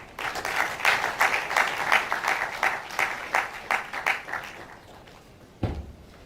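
An audience applauds at the opening ceremony of an international ICT conference, with sustained moderate clapping from a crowd that fades out, followed by a single thump.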